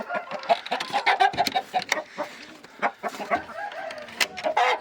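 Many chickens cluck and squawk close by in a busy, overlapping chorus, with a rooster-like call rising among them.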